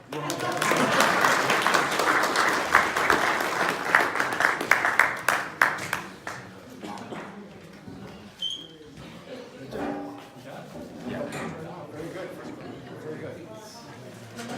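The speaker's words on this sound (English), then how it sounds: "Okay, now you can applaud." Audience at a fish club meeting breaks into applause, loud and dense for about six seconds before thinning into scattered claps and murmured chatter among the attendees.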